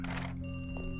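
A telephone rings in a video game, giving a steady electronic ring tone heard over a noisy burst at the start, brief and moderately loud.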